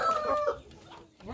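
A hen on a small farm clucks close by in a short burst of throaty calls, then quieter clucks follow.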